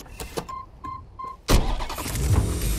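A car in Watch Dogs Legion sounds three short electronic chimes, then the engine cranks and fires with a sudden loud burst and settles into a rumbling idle. No one speaks.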